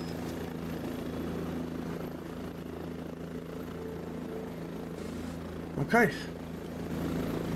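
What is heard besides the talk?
helicopter flying nearby in video game Cepheus Protocol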